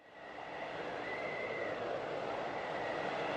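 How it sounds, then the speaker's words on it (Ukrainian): A blizzard howls, strong wind driving falling snow in a steady, swelling roar with a thin whistling tone riding on top, loud and unbroken throughout. "Це звуки завірюхи, коли йде сніг і дме сильний вітер."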